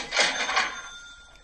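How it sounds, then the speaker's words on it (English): A cash register chime used as a sale notification: a bright ringing 'cha-ching' with two quick metallic strikes, then a fading shimmer, heard alone and close. "This is literally the notification sound I have set whenever I sell any sneakers or Hypebeast items."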